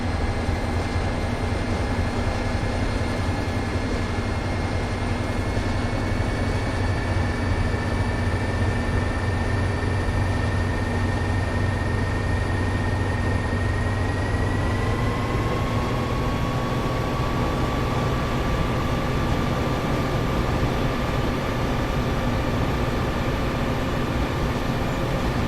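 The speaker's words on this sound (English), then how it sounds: "With the train now moving, use the throttle and the brakes to reach and maintain the indicated speed." A train on the Peninsular line in Train Sim World runs steadily in a continuous loud hum of motor drone and rolling wheels, with tones shifting pitch partway through as speed changes, no talk.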